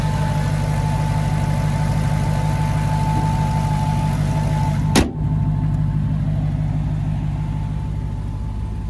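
A 2023 Dodge Challenger Hellcat Redeye Jailbreak with its 6.2-liter supercharged V8 idles in a steady, deep, close rumble, broken once midway by a short sharp thump.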